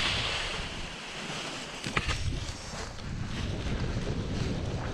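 Wind blows and buffets the microphone at a hillside launch site, a steady rushing noise with gusty swells and a short sharp knock partway through.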